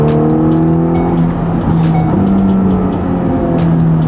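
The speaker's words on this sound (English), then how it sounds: "Those downshifts are loud too." A loud Ferrari Roma engine roars and accelerates, its pitch climbing and dropping through gear changes with sharp downshift blips, steady and close throughout.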